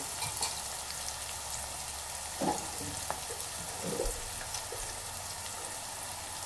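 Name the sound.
onions and green chillies frying in a pan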